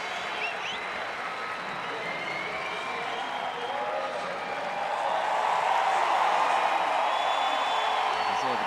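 A crowd applauds the winners of a wheelchair tennis match at the Rio 2016 Paralympic Games. Steady, broad clapping from a stadium crowd swells louder toward the end.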